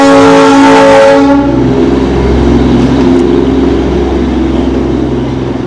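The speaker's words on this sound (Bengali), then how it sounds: "সামনে এই টয় ট্রেন কিন্তু আসছে" A Darjeeling toy train passes close by a hotel, opening with a loud, sustained horn blast before settling into a steady, heavy rumble of the wagons rolling past.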